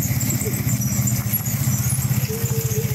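A motorcycle engine hums steadily on a ride through a village lined with coconut palms, its low even throb running throughout while a person talks over it.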